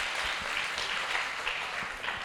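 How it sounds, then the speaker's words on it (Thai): Soft, steady applause from an audience for three girls, a distant wash of many hands clapping at low volume. "ปรบมือให้สามสาวก่อน"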